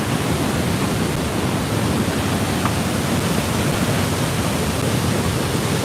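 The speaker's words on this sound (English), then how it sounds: "This is Bridal Falls." Bridal Veil Falls at Niagara Falls roars as a dense, steady wash of falling water, loud and unbroken throughout with no voices.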